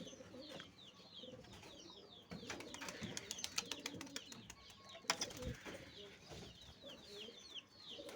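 Pigeons coo repeatedly inside a loft, soft throaty calls layered over clucks, rustling wings and scattered clatter, fairly quiet throughout.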